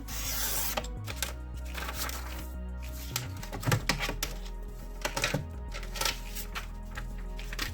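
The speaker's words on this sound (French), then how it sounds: "je prends mon massicot, je viens couper à 10." A paper trimmer slices through paper in quiet, dry cuts and soft rustles, a few sharper snaps scattered across the span, close and faint with no talking.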